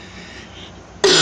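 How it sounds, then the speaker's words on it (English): A single short, loud cough bursts out at the very end after a stretch of quiet room tone. "Hold on one second, I got a cough."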